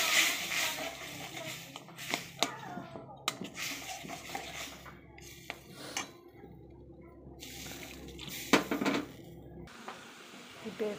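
A pan of palak soybean curry simmers after water is poured in, with scattered clinks of a spoon against metal, light bubbling and sporadic sharp knocks over a quiet kitchen background.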